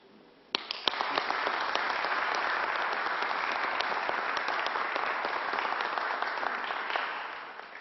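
Audience applause breaks out suddenly at a public vaccine-site announcement in the Southwest Bronx, swelling from a few sharp claps into dense, steady clapping that holds at full strength for several seconds before easing slightly at the end.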